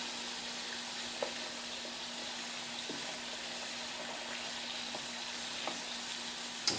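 Cut homemade potato fries browning in hot oil, a steady soft sizzle and hiss running throughout with a few faint pops and clicks, no one speaking.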